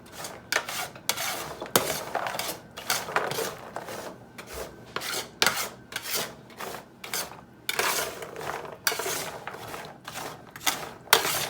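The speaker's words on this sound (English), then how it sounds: "And then I'm going to stir them around with my spatula and kind of get them all" A spatula stirs butter-coated pecans in a pan, making steady, close scraping and rattling strokes in an irregular rhythm with no voice.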